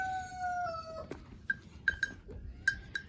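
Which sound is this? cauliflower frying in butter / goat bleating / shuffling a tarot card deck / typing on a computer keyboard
goat bleating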